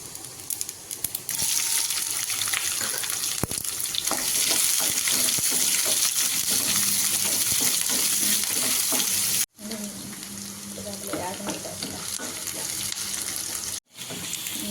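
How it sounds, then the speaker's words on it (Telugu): Onions and green chillies frying in a pan, with a steady close sizzle and intermittent stirring scrapes that continue for the whole stretch, cut by two brief dropouts near the end. "ఎర్రగడ్డలు అయితే ఫ్రై అయ్యాయి కదా"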